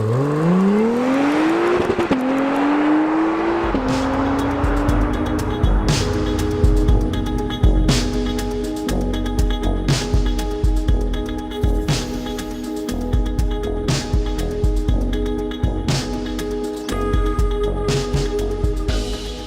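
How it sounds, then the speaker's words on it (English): An Acura NSX engine revs hard in track mode with the brake held for launch, pitch climbing in stepped surges, then holds a loud, steady, crackling idle-rev with sharp pops throughout. "put my left foot on the brake, build up the revs."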